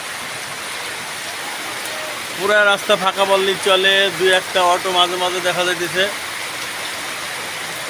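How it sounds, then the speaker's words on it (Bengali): Steady heavy rain hisses throughout on empty roads in Baliahati, with someone speaking over it in the middle. "প্রচণ্ড বৃষ্টি হইতেছে"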